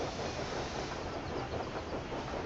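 A train running on rails in the Railway Empire 2 video game, with a quiet, continuous rolling rumble and soft clickety-clack from the wheels, steady throughout and without speech.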